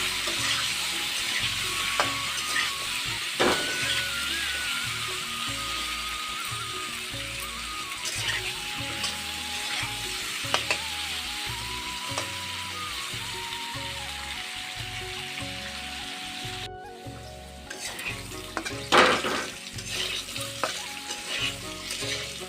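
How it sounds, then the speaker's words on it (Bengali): Potato pieces frying in oil with turmeric and salt for a vegetarian ridge gourd dish: loud continuous sizzling with repeated stirring scrapes and clinks of a spatula throughout, no talking. "রং গুঁড়া আর নুন দিয়ে ফ্রাই করে নিচ্ছি আলুটাকে।"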